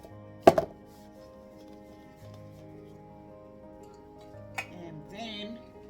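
A cake pan holding nutty batter is tapped on a surface to level it, giving one sharp, close knock followed by a fainter second tap a few seconds later, with a voice briefly heard at the end.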